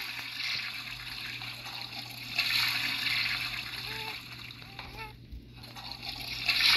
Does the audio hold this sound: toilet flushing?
yes